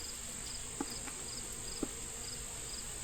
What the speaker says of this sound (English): There is a ton of bees in here